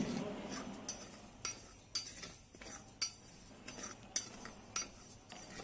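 Moong dal dry-roasting in a metal vessel for pasiparuppu laddu, stirred with a spoon that clinks and scrapes against the sides in repeated sharp taps over a quiet rustle of the lentils, no talking.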